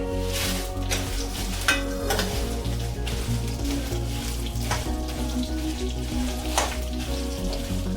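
Dried red Byadgi chillies frying in a pan for coriander chutney, a dense crackling sizzle with clatters of stirring and a few sharp knocks, close and continuous.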